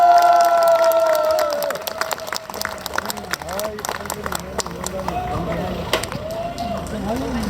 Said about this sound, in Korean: 저 우리 큰 박수 한번 쳐주세요